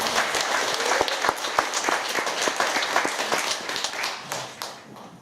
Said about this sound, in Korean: 큰 영광의 박수 보내주십시오